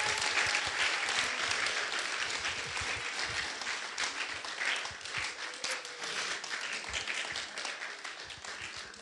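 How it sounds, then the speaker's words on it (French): A church audience applauds after a play, with a dense, continuous wash of clapping from many hands lasting about nine seconds and fading slightly toward the end. "Je pense qu'on peut les applaudir bien comme il se doit parce qu'ils ont bien travaillé."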